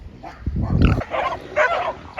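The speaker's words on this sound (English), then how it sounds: "Somebody's dogs are attacking a pig." A pig squeals and grunts amid a scuffle as dogs attack it on a Portuguese homestead, barking over it, loud and close in short chaotic bursts.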